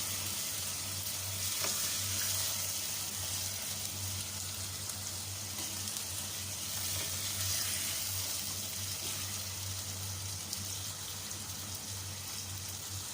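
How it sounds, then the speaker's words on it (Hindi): Chicken pieces fry in a pan over a medium-low flame for Singaporean rice, producing an even, hissing sizzle that holds steady and fairly loud throughout, with an occasional faint clink. "इसे उस वक्त तक भूनेंगे जब तक ये इसका कलर चेंज नहीं हो जाता"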